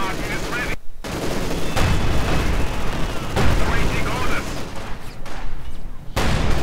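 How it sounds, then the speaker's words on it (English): Sustained battle gunfire and explosions in Company of Heroes 2, with a Stuka and a Panzer 4 firing on conscripts. Dense crackling bursts and booms run throughout, with brief gaps and a commentator's voice underneath. "Moving up with a Stuka and a Panzer 4. Letting everything rip on these conscripts"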